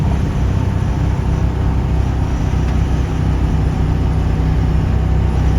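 A silver 1955 Mercedes-Benz 300SL Gullwing driven under load at speed on a highway, giving a steady, loud low engine and road rumble with no break and no voices.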